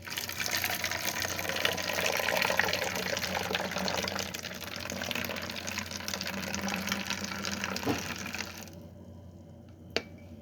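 About a cup of water, roughly 200 ml, is poured carefully into a bottle, making a steady close gurgling fill that stops near the end and leaves brief quiet with a small tap.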